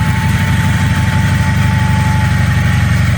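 A Venturo ET10KX mini crane's small engine idles steadily and loudly, a constant low rumble with a faint tonal whine and vibration throughout, no one talking.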